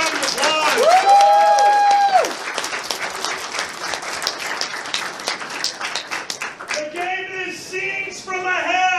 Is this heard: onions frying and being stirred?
no